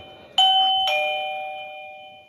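A wireless doorbell chime, set off remotely by a Flipper Zero, rings out as two clear tones a half-second apart, the second note ringing on and slowly fading indoors.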